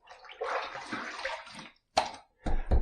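Water is splashed onto a face before shaving: a roughly one-second run of wet splashing and hand rubbing, then a pause and two shorter, closer splashes. Nobody speaks.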